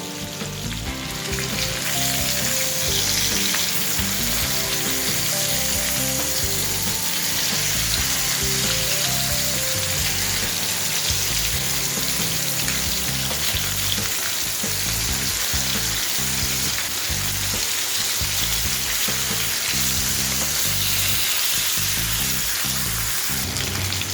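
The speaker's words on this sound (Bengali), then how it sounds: "মাছ ভেজে নেওয়া হয়ে গেছে।" Steady, loud sizzling of katla fish frying in hot oil, a continuous crackling hiss with small pops throughout and no talking.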